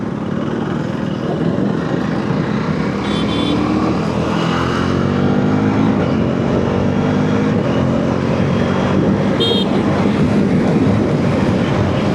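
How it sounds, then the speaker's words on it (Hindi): Heavy road traffic rumbles steadily near a toll plaza on the Andal to Kolkata route, with vehicles slowing and bunching up, a loud continuous roar of engines and tyres passing close by, with no one talking. "एकदम यहाँ पर आके बहुत सारा गाड़ी इकट्ठा हो जाता है"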